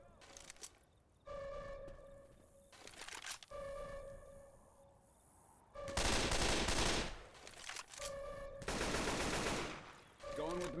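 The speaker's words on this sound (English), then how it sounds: "Going with the machine gun." Bursts of machine gun fire in Left 4 Dead 2 come in several loud, sustained volleys broken by quieter tonal game sounds and brief pauses.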